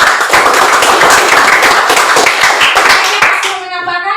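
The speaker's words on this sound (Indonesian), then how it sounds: "Tepuk tangan untuk Rahel" Classroom applause for a student, a dense burst of many hands clapping together for about three and a half seconds before it abruptly dies away.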